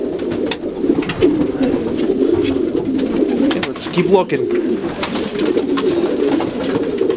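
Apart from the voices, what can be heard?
racing homer pigeons cooing in the loft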